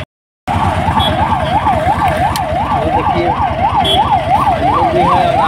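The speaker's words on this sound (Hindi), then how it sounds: "देखिए अभी अभी एम्बुलेंस आया है" After a brief silence, a loud, close ambulance siren whoops up and down in quick regular cycles over heavy engine rumble.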